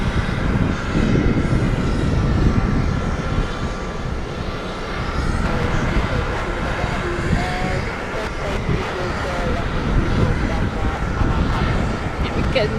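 A JetBlue jet airliner roars at JFK airport, a loud, steady broadband engine rumble heard throughout, with wind noise and some background voices.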